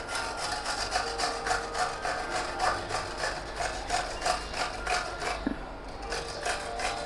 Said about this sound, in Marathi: आता आपली काकडी किसून झाली आहे.